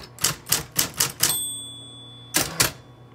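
A Coronet Super 12 vintage typewriter typed in a quick run of about six sharp key strikes, followed by a bright ringing bell and then two more keystrokes, close and loud with no talking.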